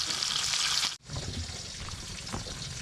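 Milkfish (bangus) fries in a pan with a steady loud sizzle and crackle close by, broken by a brief drop near the start before the hiss resumes.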